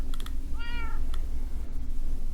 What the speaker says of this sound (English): And kitty in the background.